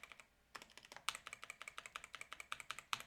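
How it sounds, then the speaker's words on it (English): Steady rapid keystrokes on a computer keyboard as login email and password are entered, close and clear, a run of light clicks in a quiet room. "type in your mail and type in your password."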